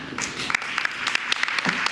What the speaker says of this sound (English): Another round of applause to our grad committee members